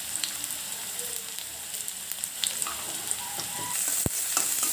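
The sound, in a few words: onions being stirred and fried in a pan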